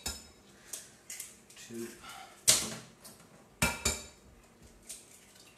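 Kitchen clatter of eggs being cracked and mixed in a bowl with milk and herbs for a crustless quiche, with a few sharp clinks and knocks against the bowl among quieter handling noises, under a little speech.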